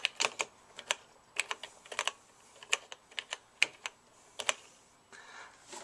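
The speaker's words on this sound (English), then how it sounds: "and I'm going to type a little here." Typing on a TRS-80 Model 100 portable computer keyboard: irregular bursts of crisp, close key clicks with short pauses between them, alone and without talk.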